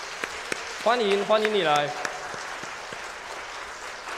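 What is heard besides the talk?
congregation clapping to welcome a church visitor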